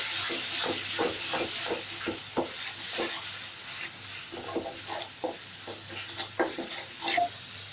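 Spice paste with a spoonful of turmeric is stirred and fried in a hot pan for a beef dish. A steady hiss of frying runs beneath a fast, repeated series of close scraping spatula strokes, with no voices.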